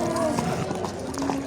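Horses clip-clop on the ground at a horse market in Tokmok, Kyrgyzstan, a brisk run of hoofbeats under nearby people talking and crowd noise.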